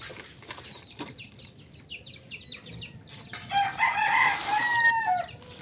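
Small chickens cluck and chatter while a rooster crows, with a brief flutter of wings, at moderate distance in a quiet outdoor setting.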